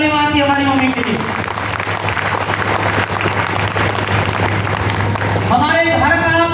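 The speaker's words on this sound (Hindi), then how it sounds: "जोरदार ताली मांगी हमारी मम्मी के लिए।" An audience applauds at a talk, with loud, dense, sustained clapping that drowns out the speaker's voice, which is heard at the start and end.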